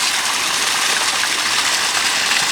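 A garden waterfall tumbling beside clumps of Gunnera tinctoria, a steady broadband rush of falling water that holds even and continuous throughout, with no voices over it.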